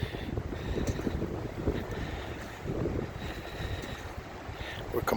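Flood water rushes in during the 2019 Montreal flood, a continuous broadband roar mixed with strong wind buffeting the microphone, steady and fairly faint throughout.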